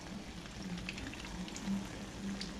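Chili rellenos frying in a pan after being flipped, a soft, even crackle and sizzle that keeps going at low volume, with faint pops scattered through it.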